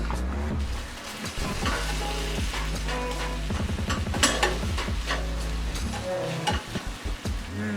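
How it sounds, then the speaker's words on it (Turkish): Menemen, the Turkish egg and tomato dish, sizzles loudly in a pan, a close continuous crackle with occasional clinks and scraping stirs, no talking. "Şimdi menemen yaparak başladım olaya."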